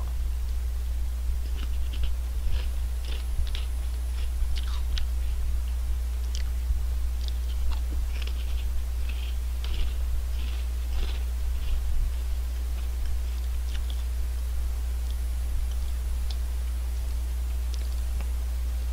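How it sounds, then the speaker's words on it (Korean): Someone eats crunchy Honey Tongtong apple and strawberry snacks up close, with many small crisp crunches scattered over a steady low hum and no talking. "이게 과자 먹방 하면 이런 아삭아삭하게 씹히는 맛 있잖아요"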